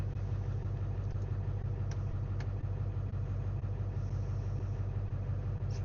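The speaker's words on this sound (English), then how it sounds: "It's gonna go to high idle here in a minute." A 7.3 diesel engine idles after a cold start in icy conditions, a steady, loud low rumble with faint clicks on top, close and unbroken, with no voices.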